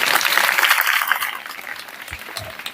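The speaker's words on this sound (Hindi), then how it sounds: "तालियां तालियां बजाइए।" Schoolchildren clap together in a classroom, a loud burst of applause that fades away over a couple of seconds, leaving a few faint thumps.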